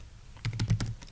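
Short burst of keystrokes on a computer keyboard as a case-sensitive enable password is entered on network gear during a CCNA lab, about six or seven close, crisp taps in an uneven rhythm with no talking.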